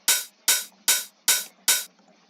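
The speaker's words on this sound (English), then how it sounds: "It's just an open hat, and I used an envelope to make it a bit shorter" An open hi-hat sample cut short with an envelope hits five times at an even pace, each a bright, hissing splash that stops abruptly, loud and alone.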